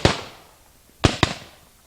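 Ceremonial cannon shots at a Battle of Plattsburgh and War of 1812 commemoration on Crab Island: a sharp blast opens, then two more loud, booming reports follow about a fifth of a second apart, each trailing off outdoors with no talk.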